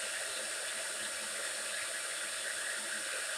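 A milling cutter slowly takes light cuts on a GT40 bell housing clamped to a vertical table, giving a steady, hissing high-pitched whir that runs unbroken throughout at moderate level.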